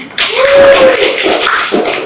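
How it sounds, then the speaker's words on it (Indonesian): Classmates in a vocational school computer-networking classroom applaud together, a dense burst of hand claps that rises quickly and holds steady for about two seconds, with voices mixed into the clapping. "kasih tepuk tangan teman-temannya"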